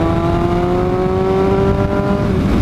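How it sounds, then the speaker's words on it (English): A motorcycle fitted with a slip-on exhaust drones loudly and steadily nearby, its engine note holding a strong, slightly rising tone throughout while riding. "as we're riding and we're speeding it up, we're blazing it and we're downshifting"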